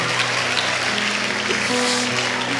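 Audience applause during a church testimony talk: dense, even clapping from a large crowd, held steady and fairly loud throughout with a faint low hum beneath.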